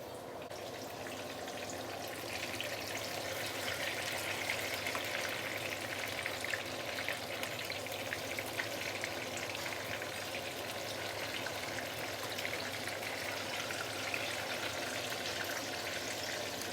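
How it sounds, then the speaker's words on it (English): Continuous crackling sizzle of stuffed tofu deep frying in hot oil, steady and dense throughout, with no voices. "You want to fry this until it is fully cooked."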